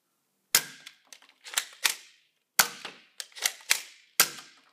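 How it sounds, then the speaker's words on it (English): Toy darts being shot at a toy, with about eight sharp, snappy pops and clacks coming singly and in quick pairs, each followed by a short rattle of impact, close by in an otherwise quiet room. "So what happens if you shoot darts at it?"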